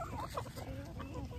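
Several chickens cluck close by in a short, busy burst of overlapping calls during a backyard treat of black soldier fly larvae.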